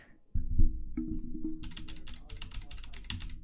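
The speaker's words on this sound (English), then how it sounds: "You better be typing this in a Google Doc" Typing on a computer keyboard, a rapid run of close clacking keystrokes over a steady low hum, alone without talking.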